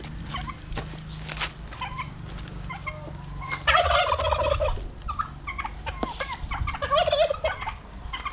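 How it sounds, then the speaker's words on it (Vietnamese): Turkeys and other fowl gobble and cluck in a farmyard during a TV receiver installation. Bursts of loud, close gobbling repeat over several seconds, with chatter and rustling, and no talk. "gấu phết mấy con gà này"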